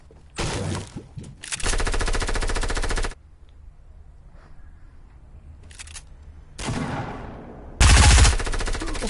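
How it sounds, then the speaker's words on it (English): Rapid automatic gunfire in the Fortnite video game, several long loud bursts separated by quiet gaps, with a short final burst near the end and no talking. "I shot them."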